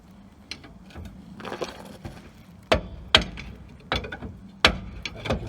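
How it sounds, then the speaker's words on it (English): A hammer strikes the brake drum of an LDV Maxus van to loosen it, giving several sharp metallic knocks at uneven intervals. Fainter shuffling and mechanical handling noises come before them. "put force on the drum on one side, hit it on the other side with the hammer"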